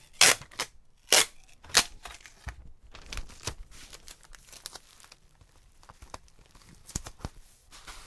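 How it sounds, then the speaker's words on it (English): Clear packing tape is pulled and wrapped over bubble wrap around an electric guitar's neck. Sharp tearing rips and crinkles come in bursts close by, followed by a series of quieter crackles and plastic rustling. "Now we'll use some clear packing tape to secure the bubble wrap."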